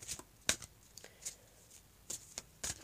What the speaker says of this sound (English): Okay, so I'll shuffle these cards. These are the decision making cards.